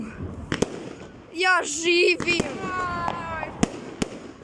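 New Year fireworks and firecrackers exploding outdoors: several sharp cracks and bangs, then a whistling, crackling burst that fizzles out, while a person talks and exclaims over the noise.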